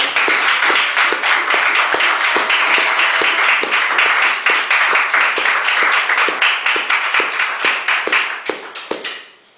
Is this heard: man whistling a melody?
no